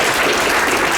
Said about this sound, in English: You guys can give them a round of applause